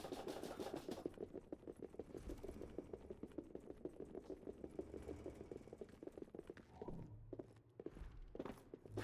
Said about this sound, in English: I love the sound of our footsteps.